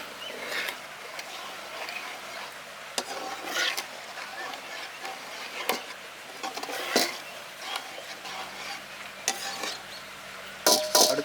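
A spoon stirs fish curry in a pan as tamarind water is mixed in, giving soft scraping strokes and light sizzling with scattered clinks of utensil against the pan, fairly close and steady throughout.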